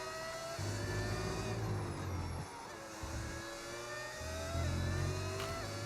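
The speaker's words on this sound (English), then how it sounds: "The car sounds amazing." Formula 1 car engine revving in the F1 25 racing game, a loud, sustained high-pitched whine that steadily rises and falls with the throttle, with deep rumbling under it and no voices.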